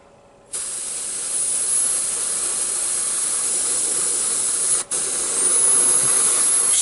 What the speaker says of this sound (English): Spray different angles so you catch all the different nooks and crannies.